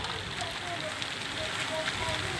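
Icy rain falls steadily in Northampton in March, a dense hiss of pellets pattering on surfaces without pause.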